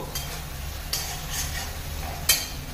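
Okra (bhindi) being stirred in a pan, a soft steady frying hiss with a few faint scrapes and one sharper clink near the end, close but quiet.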